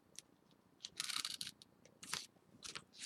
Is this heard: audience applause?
no